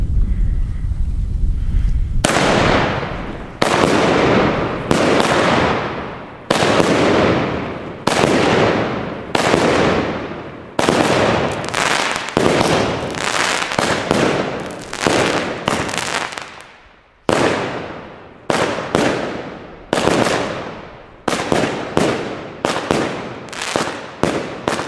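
A Klasek Ghost Ship 25 mm, 25-shot fireworks battery fires a loud, rapid string of cracking bursts, a sharp report roughly every half second with a few brief gaps, alone without talk.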